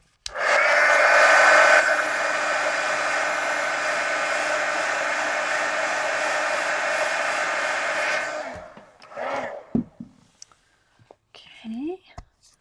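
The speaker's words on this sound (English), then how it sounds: "let me hit this with the heat gun" A heat gun blasts hot air over a mixed media collage art card, a loud steady whoosh that runs for about eight seconds before cutting off, followed by faint handling clatter.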